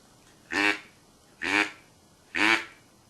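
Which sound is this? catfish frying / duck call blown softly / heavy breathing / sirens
duck call blown softly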